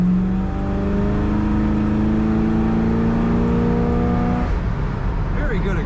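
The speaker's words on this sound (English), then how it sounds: "Very good acceleration in this Oldsmobile." A 1968 Oldsmobile 442 convertible accelerates hard on a cool November morning in Minnesota. The engine note climbs steadily, loud and close, then drops sharply as it shifts gear.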